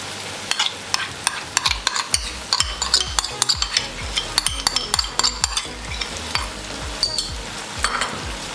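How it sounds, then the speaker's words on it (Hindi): A spoon stirs half a cup of yogurt into spiced chickpea pulao frying in a pot. Steady sizzling runs under rhythmic scraping strokes of the spoon, close and fairly loud, with no talk. "अब इसमें हाफ कप दही ऐड कर देंगे।"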